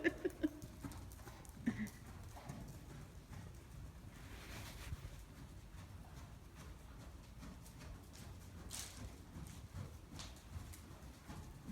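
Horse hooves clip-clop faintly at a walk over wind noise buffeting the microphone, with a few sharper knocks near the start.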